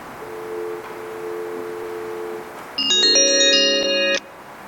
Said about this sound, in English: Do we have Ms. Tanner on the phone?